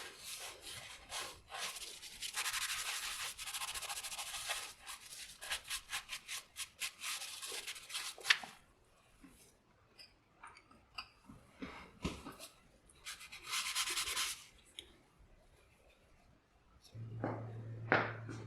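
Excess tile crack filler being wiped and scrubbed off tile, close, quiet rubbing strokes in an uneven rhythm, with a few louder bursts of scrubbing between quieter stretches.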